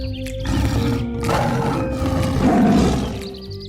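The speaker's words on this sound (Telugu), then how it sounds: "గర్జించే శబ్దం అడవిలో వినిపించింది" A lion roars in a forest, one deep, rumbling, drawn-out roar with rising and falling swells, loud and close, with no talking.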